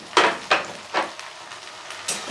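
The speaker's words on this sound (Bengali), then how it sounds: "টমেটোটা দিয়ে দিচ্ছি।" Tomato tipped into a pan of fried onions for Bengali-style mutton kosha, giving several sharp bursts of sizzling as it is stirred, with quieter frying crackle between the bursts.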